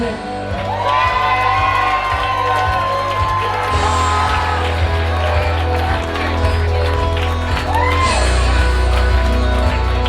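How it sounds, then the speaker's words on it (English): Wedding guests whooping, shouting and cheering in a crowd over a thumping party beat, with whistles and yells rising in bursts and music running underneath throughout. "a big round of applause for Lacey and Sam"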